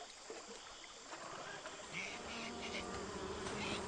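Wasps buzzing in the video game Amerzone, a steady droning hum with a few louder passes, held at an even level throughout with no talk over it.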